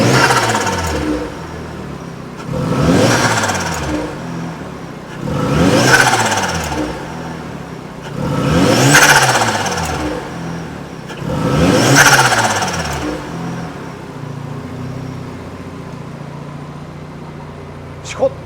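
A Mazda RX-7 FD3S Type-R with about 60,000 km, its rotary engine nearly warmed up, revs lightly at idle: four evenly spaced throttle blips about three seconds apart, each rising and falling back to a steady idle, close and loud.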